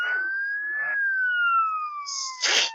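A police siren in the video game Roblox Jailbreak wails in rising and falling sweeps, then a sharp burst of noise cuts in near the end.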